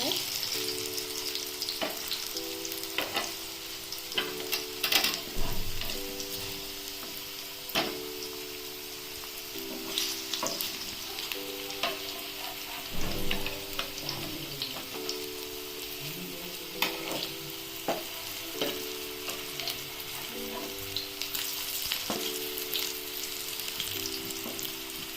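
Chana dal pakoras, made without besan, fry steadily in hot oil with a continuous crackling sizzle, punctuated by occasional louder pops and the scrape of stirring; a faint tonal hum runs underneath throughout.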